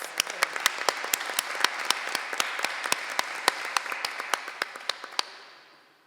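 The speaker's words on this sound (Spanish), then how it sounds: "Un aplauso para todos los colaboradores." Applause for the collaborators at a Latin American and Caribbean parliamentary diplomacy forum, with loud, sharp individual claps standing out over a dense bed of crowd clapping that fades away at the end.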